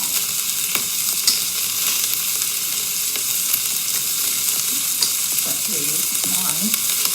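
Unpeeled, squeezed garlic fries in a quick cooker with a loud, close, continuous sizzle, and a few scraping stir sounds come near the end.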